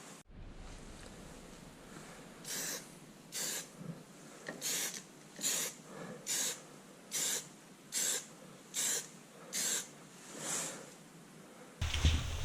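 Spray gun laying base coat onto the body of a 30-year-old BMW E36 325i under restoration: about a dozen evenly spaced short hissing bursts over a steady background hiss, fairly close, with no talking.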